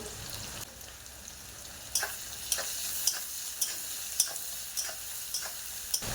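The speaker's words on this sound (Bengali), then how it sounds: "পেঁয়াজকে একটু বড় বড় করে কুচিয়েছি বেশি ভাজবো না এইরকম করে ভেজে নেব" Coarsely chopped onions fry in a pan for a bitter gourd, potato and fish curry, giving a steady, fairly faint sizzle with light, regular clicks of stirring on top.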